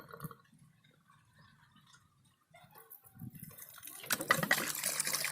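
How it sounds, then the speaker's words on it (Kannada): Rainwater runs into a farm pond dug for groundwater recharge, faint trickling and dripping at first, then building into a louder splashing gush toward the end. "ಈ ಕೃಷಿ ಹೊಂಡದಲ್ಲಿ ಮಳೆ ನೀರು ವೇಸ್ಟಾಗಿ ಹೋಗೋದನ್ನು ಸಹಿತ ಇಲ್ಲಿ ಬಂದು ಬೀಳುತ್ತದೆ"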